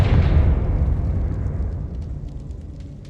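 A Confringo explosion spell in Hogwarts Legacy starts loud and booming, then decays over a few seconds into a fading rumble with faint crackles.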